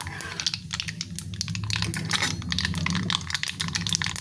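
Mustard seeds, cumin and black pepper splutter in hot oil, a dense run of close, rapid crackles and pops over a low stove hum.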